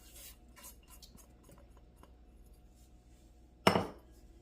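A utensil clinks against a bowl while eggs are stirred into carrots for a carrot pie filling, faint soft scraping at first, then one sharp louder clatter near the end, with no voices.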